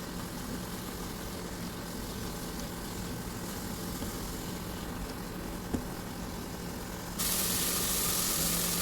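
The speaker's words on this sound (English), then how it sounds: "So we'll just fry this for a minute." Onion, tomato and fenugreek leaves fry in a pan with a steady, close hiss of sizzling oil that holds even throughout, then swells louder near the end.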